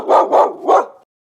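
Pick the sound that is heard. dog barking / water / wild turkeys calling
dog barking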